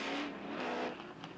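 A Chevrolet Camaro Trans-Am race car roars at speed on the 2.25-mile Moroso road racing circuit in West Palm Beach in 1983, a loud, sustained engine drone heard briefly and up close.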